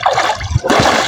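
Water splashes and churns loudly up close as a diver surfaces from a river while catching shrimp and fish by hand, a continuous gushing burst with a brief dip midway.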